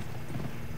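A horse's hooves clip-clop in a rapid, steady rhythm while being ridden in the Western video game Gun, with dense, continuous game audio.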